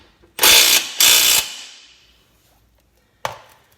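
Ratcheting wrench tightening a fastener on a coilover being installed on a BMW E46 318i: two loud back-to-back bursts of ratchet clicking, then a single short sharp clack a couple of seconds later, with no voices.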